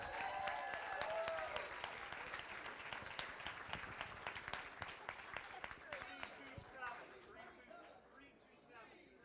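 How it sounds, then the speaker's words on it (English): Guests at a charity gala auction clap for the winning bidder, a fairly quiet round of applause that thins out and fades, with voices talking over it. "Give them a round of applause."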